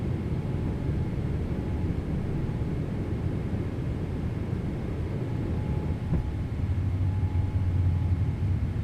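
Simulated Boeing 777 airliner climbing after takeoff in Microsoft Flight Simulator 2024, a steady, dense, low engine roar with broadband rushing noise throughout, constant and fairly loud, with no voices.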